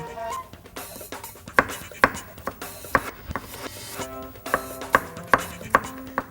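A knife cuts vegetables lengthwise into strips for kerabu ayam, giving sharp, irregular chopping knocks on a board with faint music behind.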